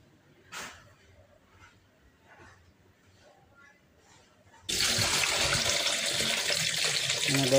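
Boiled radish being rinsed under running water from a tap, a few faint clinks and handling noises first, then a sudden steady gush of water that continues to the end.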